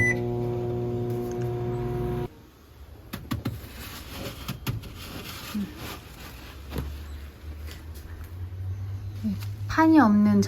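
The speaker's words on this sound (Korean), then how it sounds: "전자레인지" A microwave oven hums steadily, then after a quiet stretch with some household noise, a short run of electronic beeps sounds near the end.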